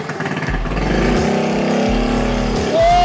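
A two-wheeler engine is kick-started and catches, its low, uneven chugging growing into a close, loud idle with a rising whine near the end.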